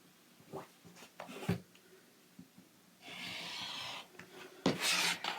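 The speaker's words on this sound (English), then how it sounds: "So I'm going to cut it this way and then pick it up and rotate it and cut it the other way." Quilting fabric being cut into triangles, with brief scraping and rasping strokes followed by a longer steady cut and a louder final stroke, close by and without talk.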